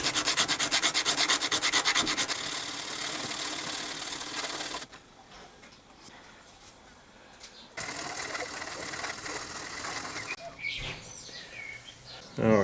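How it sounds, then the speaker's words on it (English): Hand file working on a motorcycle chain rivet during a DR650 chain replacement, a rapid close rasping scrape that runs steadily, drops out briefly, then resumes in bursts. "I've been filing on this particular one for about, I don't know, about 4 minutes"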